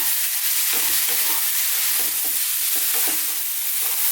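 Vegetables stir-fry in a hot pan, giving a loud, continuous sizzle with soft stirring scrapes and jostling mixed in.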